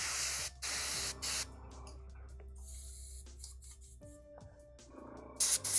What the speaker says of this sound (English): Let's spray this through.